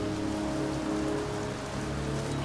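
Pouring rain in a cemetery in the game Heavy Rain, a steady, dense hiss of drops hitting the ground with a low rumbling undertone, loud and continuous with no voices.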